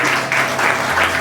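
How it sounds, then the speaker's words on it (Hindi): A church congregation clapping during a Hindi sermon, a loud, brief burst of hands striking in uneven bursts, close and full, with a faint low voice beneath. "ताली बजाइए।"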